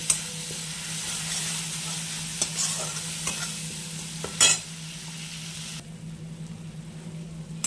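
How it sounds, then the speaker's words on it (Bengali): Spice paste of chili, cumin, turmeric and sugar sautéing in a pan, a steady sizzle broken by occasional scraping stirs, with a low hum throughout and no voices. "এটাকে আবার সুন্দরভাবে কষিয়ে নিতে হবে।"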